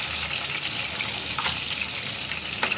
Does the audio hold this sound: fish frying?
yes